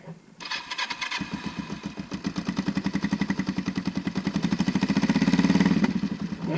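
A motorcycle, left unridden for three weeks, cranks on the starter and catches first try, then settles into a steady, rhythmic idle close by, loud and continuous with a slight rise in revs near the end.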